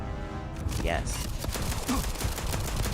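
Sniper rifle fire in the video game Starfield rings out as a dense burst of sharp, loud shots over a busy combat soundscape, with a voice talking underneath.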